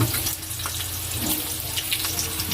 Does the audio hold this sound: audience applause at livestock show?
no